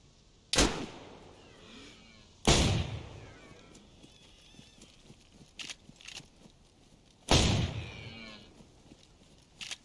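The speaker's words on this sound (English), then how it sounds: "I hit him with both shotguns." Three sharp, loud shotgun blasts ring out in the video game DayZ, widely spaced with quieter footstep-like shuffles and small knocks between them.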